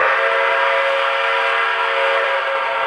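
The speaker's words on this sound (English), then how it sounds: "And here's the whistle." The steam whistle of New York Central Niagara locomotive 6019 blows as one loud, steady chime-like tone that holds unbroken and close throughout.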